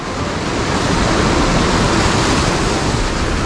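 The Gauri Ganga, a fast Himalayan river of clear blue water running through a green valley, roars loudly and continuously, a dense unbroken rush close to the listener with no talk over it.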